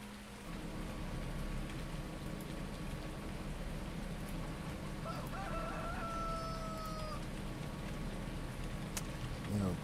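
A rooster crows once in the middle, with faint clucking from chickens over a steady background patter like rain.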